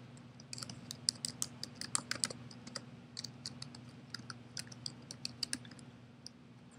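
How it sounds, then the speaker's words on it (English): Fingers typing a presentation title on a computer keyboard, producing a quick, uneven run of light key clicks close by over a low steady hum, with no talking. "type the title of my presentation"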